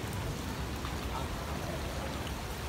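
Steady rain falls at a hilltop resort in Nha Trang on a gloomy day, a constant broadband hiss of drops spread evenly throughout, moderately loud with no talking.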